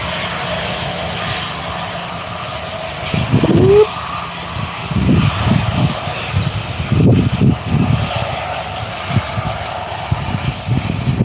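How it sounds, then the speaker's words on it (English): A Virgin Australia Boeing 737 with extra winglets moving at Gold Coast Airport, a loud steady jet engine roar with rumbling low bursts and pulses, no voices over it. "Boeing 737 with the extra winglets attached."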